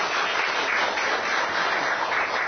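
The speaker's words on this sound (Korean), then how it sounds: "여러분들의 뜨거운 박수와 함께 강의를 시작하도록 하겠습니다" An audience claps as a lecture on dementia is about to begin, a dense, even wash of applause that holds steady for a couple of seconds.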